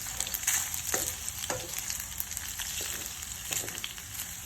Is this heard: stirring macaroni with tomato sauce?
yes